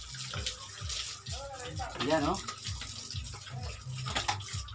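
Water splashes and pours over pigs being cooled in hot weather in Cebu, a running, gushing stream with tapping spatters, alongside someone talking.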